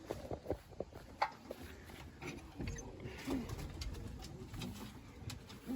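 Tumbler pigeons in a loft coo softly, with scattered wingbeats and footsteps shuffling nearby, a quiet close-up scene with no voices.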